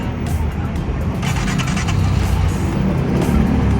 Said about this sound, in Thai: เดี๋ยวผมลองสตาร์ทเครื่องให้ดูนะครับว่าเสียงเป็นไงนะครับ